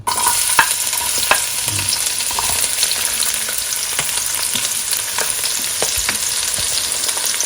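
Garlic sizzles loudly in olive oil in a close-up pan, a bright continuous crackle with scattered sharp pops and occasional utensil clicks, the first step of cooking bopis; nobody talks.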